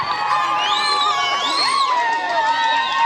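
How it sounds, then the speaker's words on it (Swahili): A crowd at an outdoor gospel meeting of a Tanzanian church cheers and ululates, loud warbling trills rising and falling over a dense, continuous roar of voices. "Piga makofi na vigelegele kwa Yesu"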